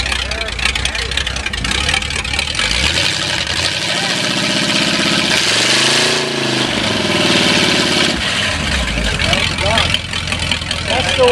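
A car engine with its mufflers removed idles loudly and roughly, its pitch swelling and easing in places, while people talk over it.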